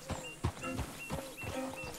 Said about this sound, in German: Das Pferd.